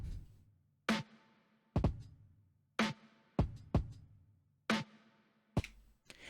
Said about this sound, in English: Drums for something like this are a two-step pattern